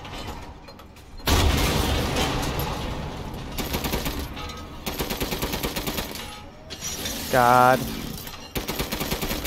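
Repeated heavy booming cannon shots ring out in Resident Evil Village over a busy, noisy game soundtrack, with a short voice exclamation and a rising mechanical whine near the end.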